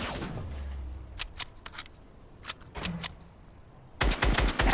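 Fortnite gunfire: scattered sharp single shots spaced irregularly over a quiet background, then a loud rapid volley of close shots at the end.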